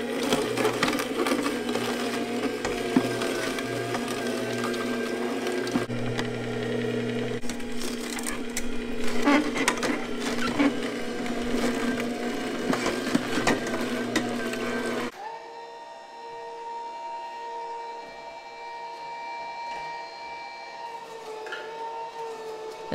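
A budget juicer under $100 grinds and crushes produce such as celery, giving a loud, dense, continuous mechanical whir with crunching texture; after about 15 seconds it drops to a quieter, steadier motor hum.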